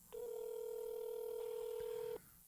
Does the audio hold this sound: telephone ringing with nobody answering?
yes